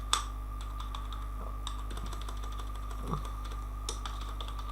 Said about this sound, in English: And I will type here